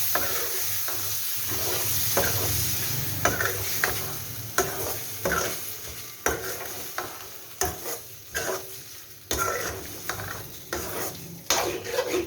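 Food roasts in a pan, with a bubbling sizzle underneath and repeated rhythmic stirring scrapes and clanks of a spoon against the metal, growing more frequent in the second half.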